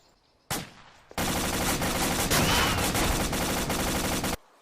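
Sustained team rifle fire in an infantry training video game, a loud continuous fusillade of overlapping automatic shots after a single opening burst, ending abruptly.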